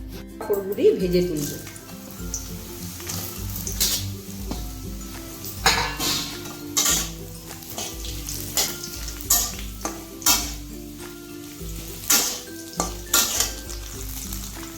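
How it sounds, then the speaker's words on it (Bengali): Papads crackle and sizzle in hot oil, with repeated scraping clatters from a utensil in the pan while someone talks over the cooking. "পাঁপড়গুলি আগে ভেজে তুলব।"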